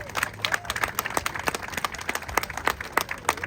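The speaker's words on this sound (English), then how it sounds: "And let's give them a big round of applause." Scattered clapping from an outdoor crowd at a street co-naming ceremony in Queens, New York, with individual claps distinct and fairly close, short and sustained.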